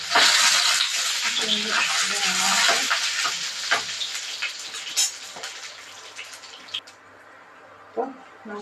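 Chana dal and curry leaves hit hot oil with a loud burst of sizzling and crackling that gradually fades, punctuated by stirring clinks and a voice speaking intermittently.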